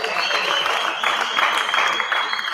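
Audience applause welcoming a performer on stage during the closing session of a democracy and rights festival, a moderate wash of clapping from a crowd with faint voices mixed in.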